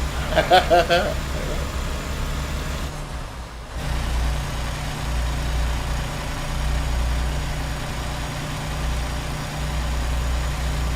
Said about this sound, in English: It's got no energy to get up this hill. Can hear that engine going in.